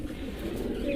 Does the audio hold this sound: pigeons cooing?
yes